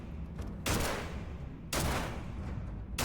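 Two bursts of rapid gunfire from a fight in the Starfield video game, each a loud, dense volley lasting about a second, separated by a short lull of lower background noise.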